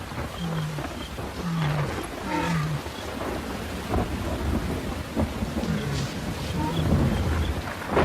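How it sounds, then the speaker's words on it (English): Low rumbling thunder and steady rain wash over open grassland in a coming storm, while low lion grunts sound intermittently, with narration heard underneath. "the electricity flashes boldly around the pride and their kill, heralding the coming storm."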